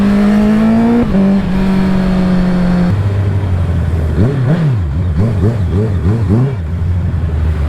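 A motorcycle with no muffler roars loudly and close up on a road ride, holding a steady drone, then revving up and down in rapid repeated surges.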